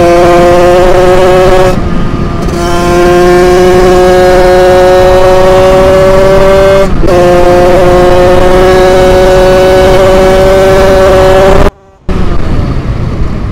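A 50cc Yamaha DT motorcycle engine revs hard and steadily while accelerating, a loud, high two-stroke buzz held close by, with two brief dips as the throttle shifts and a sharp cut-out near the end.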